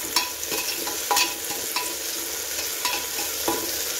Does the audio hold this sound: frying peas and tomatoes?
yes